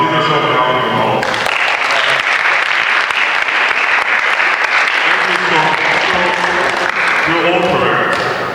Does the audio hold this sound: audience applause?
yes